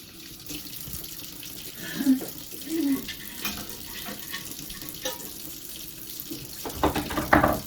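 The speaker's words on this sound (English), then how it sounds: "I'm using tap water, but I'm also using warm tap water" Warm tap water runs steadily into a container, a continuous splashing wash with a few clunks and a brighter gush toward the end.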